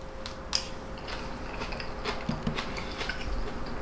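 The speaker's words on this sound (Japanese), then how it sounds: "それではスプーンで豪快にいろんな食材と一緒にいただきたいと思います" Close, quiet clicks and soft chewing as a spoon scoops a Buddhist vegetarian side dish of grilled fried tofu and spinach dressed with white miso and white sesame.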